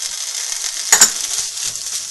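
Paneer and potato stuffing cooking in a pan, a soft sizzle with two quick clanks of a spoon against the pan in the middle, then quiet frying.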